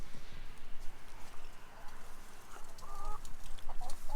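Chickens cluck softly nearby, sheltering in a bush from the heat, with a few sharper clucks toward the end, over a low rustling background and no talking.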